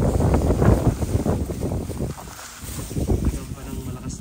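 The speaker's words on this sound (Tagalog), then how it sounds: "Napakalakas ng hangin" Strong gusting wind on the summit of Mt Yu Shan, Taiwan, around dawn buffets the microphone with heavy rumbling roar, easing briefly before surging again; a voice is faintly present.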